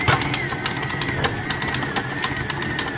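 A large electric mixer beats sugar and eggs with a steady, close motor whir and faint rhythmic pulsing from the beaters.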